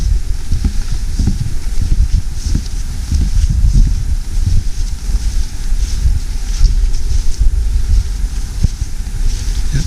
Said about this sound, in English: Yep, it's a little windy out here.